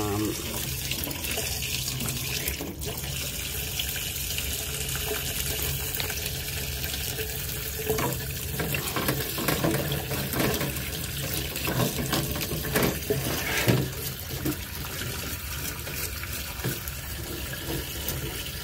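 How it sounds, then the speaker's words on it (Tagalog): Steady, forceful running water gushes and splashes continuously from a tap, with faint voices in the background. "Lakasan muna natin yung pressure ng tubig."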